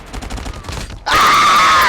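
Rapid gunfire in the Call of Duty Mobile video game crackles in quick bursts, then cuts to a loud, sustained, ringing blast that holds steady at the end.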